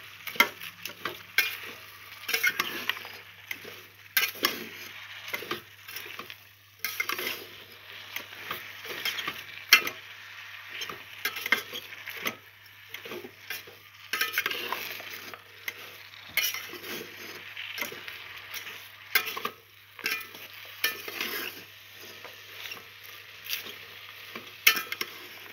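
Spoon stirs vegetables with cinnamon, cumin, turmeric and salt in a hot pot for rice-cooker khichuri, with repeated scraping and clattering strokes over a soft sizzle of frying, close and irregular.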